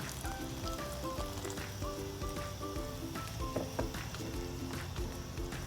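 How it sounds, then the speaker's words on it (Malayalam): Alfredo sauce thickened with cornstarch bubbles in a pan, giving a steady, close sizzling hiss with soft tonal sounds in the background. "അപ്പോൾ സോസ് അൽഫ്രെഡോ സോസ് ഇവിടെ തിളച്ചിട്ടുണ്ട്"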